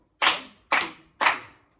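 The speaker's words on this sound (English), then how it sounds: "And what body percussion do we do when we see orange squares? Clap." Three sharp, evenly spaced hand claps ring out alone at close range as body percussion in a classroom music lesson.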